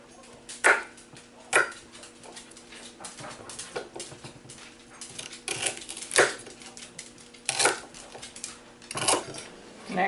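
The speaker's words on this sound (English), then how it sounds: "I'm going to cut everything up" A knife chopping rhubarb into inch-long pieces on a board, irregular sharp taps close by, some in quick pairs, over a quiet kitchen background.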